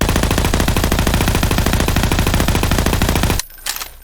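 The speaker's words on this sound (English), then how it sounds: "here's what it looks like when you fire it." Rapid automatic weapon fire in Garry's Mod, a dense, loud stream of evenly spaced gunshots that stops abruptly near the end, leaving a brief quieter tail.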